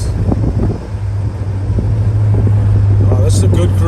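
A 1967 Pontiac GTO driving and going through the gears, its engine a steady low drone with a shifting pitch under wind buffeting and bursts of talk from people inside.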